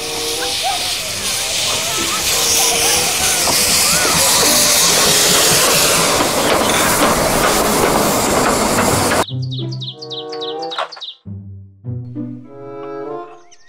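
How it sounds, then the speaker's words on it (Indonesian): Toy Thomas train with a loud steady steam-like hissing rush lasting several seconds, then abruptly giving way to bright electronic whistle and tune chimes in short bursts. "Kereta Thomas."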